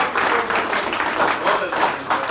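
An audience applauding at a bank's Holi get-together comedy show, a dense continuous burst of clapping that fills the whole moment.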